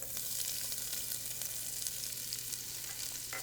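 Onions glazing in animal fat in a pot for a Swiss-Italian lasagna soup, giving a soft, even, continuous sizzle at low level with faint occasional ticks, no talking.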